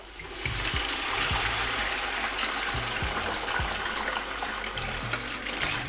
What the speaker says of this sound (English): Now slowly add in your chicken stock.